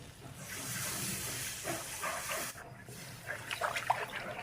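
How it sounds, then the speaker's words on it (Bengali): Steady loud hiss and sizzle as water hits frying vegetables with turmeric and salt in a hot pan, easing off midway, then crackling and spitting resumes in bursts. "যেটা ভাজা হয়ে গেছে আমি এখন জল দিয়ে দিচ্ছি"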